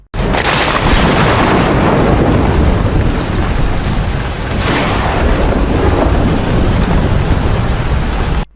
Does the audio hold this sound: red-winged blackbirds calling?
no